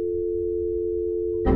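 A steady phone dial tone hums alone in the video game That's Not My Neighbor, a constant pitched drone that breaks off into a brief burst of noise at the end.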